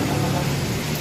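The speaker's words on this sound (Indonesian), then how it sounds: "Hujan, masih hujan." Rain falling while people sit drinking cappuccino, heard as a brief, steady hiss of dense rainfall, moderately loud and continuous, with no voices over it.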